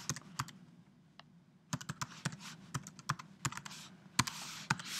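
A password is typed on a computer keyboard in a few uneven bursts of crisp, close keystrokes separated by brief pauses, over a faint room hum and with no speech.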